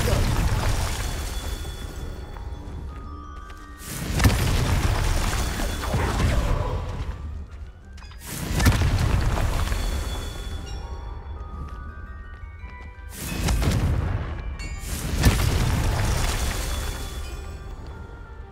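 Fire spell explosions from Confringo in Hogwarts Legacy: repeated whooshing bursts swell into heavy booming blasts about every four seconds, with crackling debris and talk in between.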